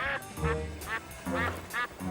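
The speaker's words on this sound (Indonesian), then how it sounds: "Suara bebek." Duck quacking near a duck pen at a house, a few loud, clear quacks in quick bursts with short pauses between them.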